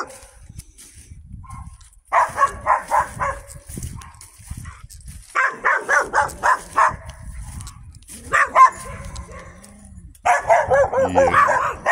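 Several dogs behind a fence bark in repeated bursts of rapid, loud barks separated by short pauses, with occasional yips mixed in and some quieter background noise between the volleys.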